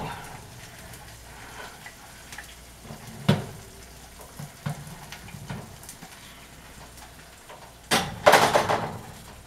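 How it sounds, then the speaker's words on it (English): Quiet crackling sizzle of hot salmon, close by, broken by a few clatters and a louder burst of handling noise near the end. "It's literally sizzling and looking beautiful."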